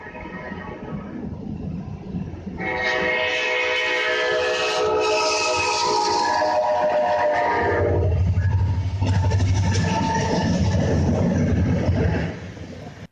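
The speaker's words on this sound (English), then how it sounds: "we caught this CSX train with Norfolk Southern power" CSX freight train hauled by Norfolk Southern locomotives rolls past on a snowy morning, its horn sounding loud and sustained, with rumbling wheels and rail clatter continuing steadily after the horn.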